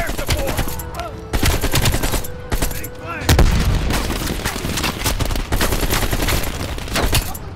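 Rapid AK rifle bursts in the shooter video game Call of Duty Black Ops Cold War, loud and repeated automatic fire with sharp cracks and a heavy boom midway, over dense battle noise.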